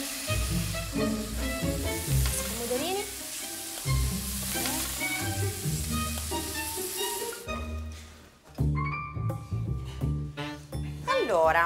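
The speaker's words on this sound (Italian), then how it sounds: "Le faccio rosolare un po' in padella e poi" Seafood browning in a frying pan for tagliatelle with seafood and asparagus, a steady close sizzle with stirring clatter running throughout, under talk and background music.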